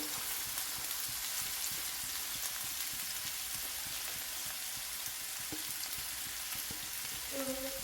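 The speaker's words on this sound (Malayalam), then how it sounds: "സവോള വറുത്ത് പോരാം" Sliced onions fry in oil with a dense, continuous sizzling hiss, steady and close throughout, with faint stirring scrapes.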